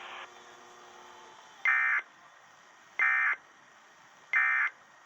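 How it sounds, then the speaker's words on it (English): Weekly emergency alert system warning alarm test on a weather radio broadcast: three identical loud, steady buzzing tone bursts, each about a third of a second, evenly spaced over a low hum. "This concludes the weekly test of the warning alarm system."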